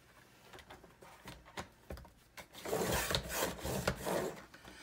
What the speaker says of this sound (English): if your trimmer won't cut all of those together all at once, just cut them one at a time